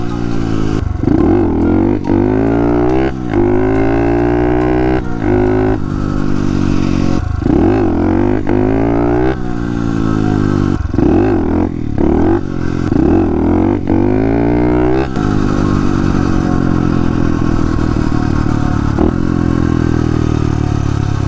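A 110cc motorcycle ridden supermoto style, apparently running lean, revs loudly and close in repeated rising and falling sweeps, the engine never dropping out over the whole stretch.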